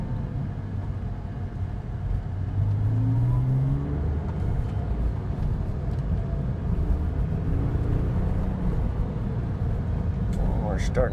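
A Porsche 996 engine, a 4.1-litre build with ported heads, hums and climbs through the revs, rising in pitch as it accelerates, with steady road and wind noise underneath.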